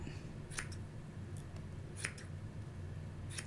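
Scissors snipping felting wool up close, four quiet crisp cuts spaced about a second or so apart over a soft steady background hum.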